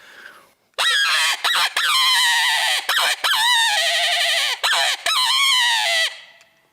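A predator hunting call with an extension fitted, mimicking a dying hare. It is blown close and loud in a run of long, wavering, nasal wails with short breaks between them, heard alone with no talk.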